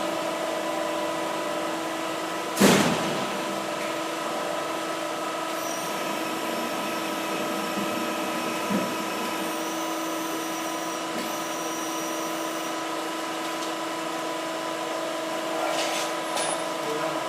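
A MAC ESTUN E200 machine runs a program with a steady mechanical hum and tonal whine, broken by a sharp thump early on and a few lighter knocks and clicks later.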